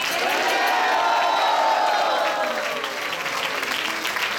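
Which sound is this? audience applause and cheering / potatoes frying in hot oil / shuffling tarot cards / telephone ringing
audience applause and cheering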